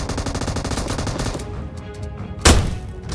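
Grenade launcher fire in the video game Metro Royale: rapid bursts of gunfire rattle continuously, then a single sharp, loud blast cuts through before the firing trails off.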